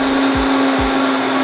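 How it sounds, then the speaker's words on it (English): A blender whirs loud and steady, processing pumpkin pie filling with cinnamon and vanilla extract, a constant motor drone with no talking until it cuts off at the end. "Now all you gotta do is blend it up."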